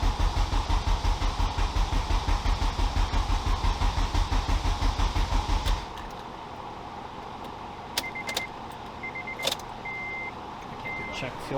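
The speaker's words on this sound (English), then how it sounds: "I'm going to give it a crank just to, you know, get some oil flowing through her." An LS V8 engine cranks steadily on the starter with its fuel injectors unplugged, a rapid rhythmic churning for about six seconds that then stops, leaving a quiet background with a few faint clicks and beeps.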